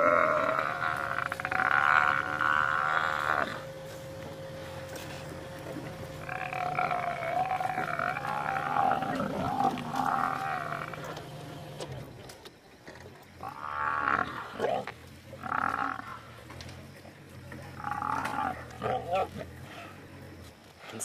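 Lions attacking a buffalo at night in the wild, with loud close growls and roars and grunting struggle sounds rising and falling over a long stretch, heavy breathing and rumbling between bursts.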